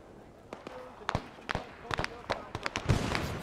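Covering gunfire rattles in an Arma 3 Vietnam-era battle for Huế City: irregular sharp shots and short bursts, some near and loud, others softer, spaced unevenly across the moment.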